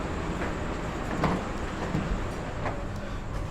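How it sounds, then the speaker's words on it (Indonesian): The Progo economy-class train in Indonesia rumbles steadily inside its carriage, with a constant low roar and a few faint knocks and clicks, and no voices. "Sekarang saya duduk di kereta ekonomi 8"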